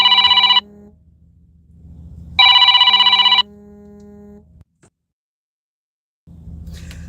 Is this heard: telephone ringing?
yes